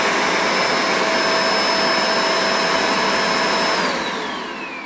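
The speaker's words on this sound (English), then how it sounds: "So here's the UV700." A Shark UV700 vacuum cleaner runs loud and steady at close range, a dense broadband roar with a faint whine that drops in pitch as the motor begins to wind down near the end.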